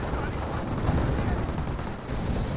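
Dense, continuous battle noise from an MG emplacement firing in Company of Heroes, a steady rattling wash of automatic gunfire blended with other combat sounds, loud and unbroken throughout.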